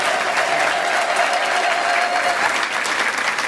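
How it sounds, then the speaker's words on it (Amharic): A large congregation at an Ethiopian church baptism program in Addis Ababa applauds loudly and steadily, a dense continuous roar of clapping with crowd voices mixed in and a faint sustained tone underneath. "አጨብጭቡ"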